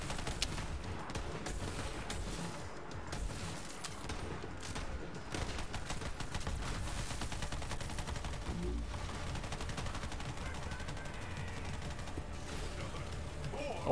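Shotgun firing in the video game Borderlands 3 amid a chaotic firefight: dense, continuous gunfire, mechanical clatter and rattling effects stay at a steady loudness throughout.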